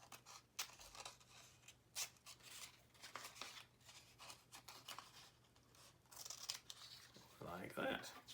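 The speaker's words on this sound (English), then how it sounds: "I'm going to very carefully cut my triangle out." Scissors snip slowly through paper to cut out a triangle shape in a craft project, making soft, faint crunching cuts with light rustling.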